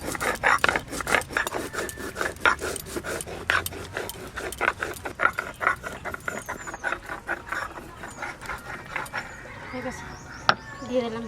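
Fried cardamom, cinnamon and cloves are ground into a paste on a stone, with repeated rough scraping and rubbing strokes in a steady rhythm, close and fairly loud, with faint outdoor sounds behind.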